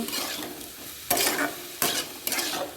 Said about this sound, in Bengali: জিরে গুঁড়ো হলুদ গুঁড়ো দিয়ে ভালো করে এটাকে কষিয়ে নেব